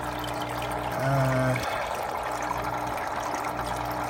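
Water trickling steadily during a partial water change on a home fish tank, a continuous soft splashing flow with a low hum underneath and a brief tonal whine near the start.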